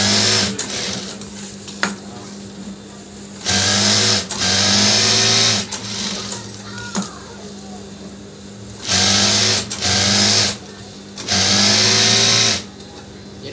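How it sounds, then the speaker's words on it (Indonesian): A sewing machine stitches a fabric cover for a water gallon in loud bursts of whirring, each lasting a second or two, separated by pauses in which a person talks. "bagian cover galonnya kita akan jahit seperti ini"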